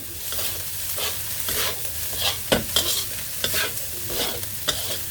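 Kimchi fried rice with sliced spring onions being stir-fried in a pan, a continuous sizzle broken by repeated scraping and tossing strokes of the spatula, close and clear.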